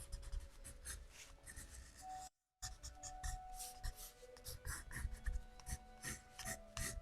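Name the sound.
ink pen sketching on paper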